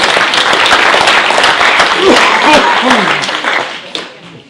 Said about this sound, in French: c'est Didier Supplisson, rien que pour ça on peut l'applaudir